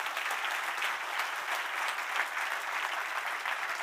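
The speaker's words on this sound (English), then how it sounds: "So please give them a big round of applause." Audience at a financial industry conference closing session gives a steady, even round of applause, moderately distant and unbroken by talk.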